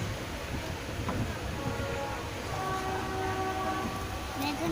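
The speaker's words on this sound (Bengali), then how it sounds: "এবারে একটু মিডিয়াম ট্রেন ছাড়লো" A medium-length train pulls out of a station where samosa vendors are selling, its deep rumble and wheel noise steady and close, with tonal horn-like notes sounding over it.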